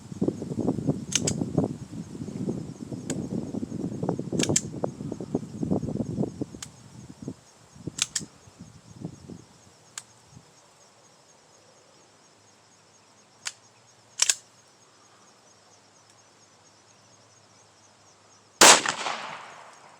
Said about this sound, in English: The 5 and 1 drill is 5 dry shots, 1 live. Then 4 dry shots, then live, until you get down to 1 shot.